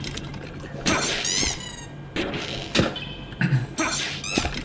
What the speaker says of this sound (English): Can you hear the squeaks?